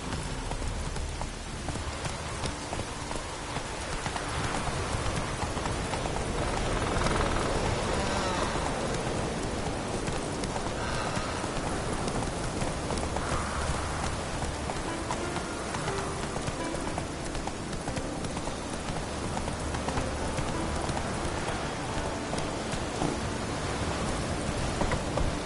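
Steady hoofbeats from Geralt's horse Roach in The Witcher 3 clop along continuously, soft and somewhat distant beneath a constant rain-like wash of ambient noise, with no talking.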